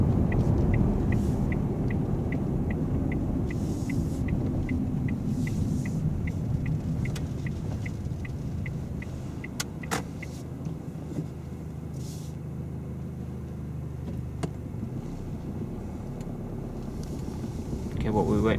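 Steady interior rumble of a car on a grade 3 driving test, with another car passing on the road outside, while a turn indicator ticks and people talk over the engine noise.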